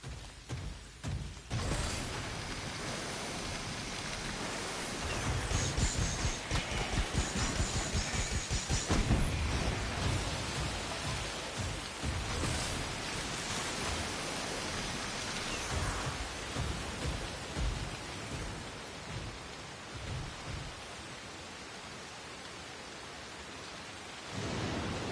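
Heavy rain pours steadily in a video game, a dense continuous hiss with low thunder rumbles rolling through the middle, loud and close without any voices.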